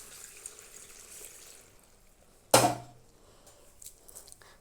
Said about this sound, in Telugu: చూడండి 2 గ్లాస్ అట్లా వాటర్ వేస్తున్నానండి